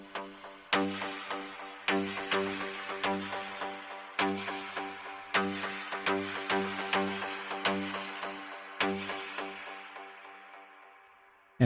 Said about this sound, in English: This one actually has a whole lot of reverb on it.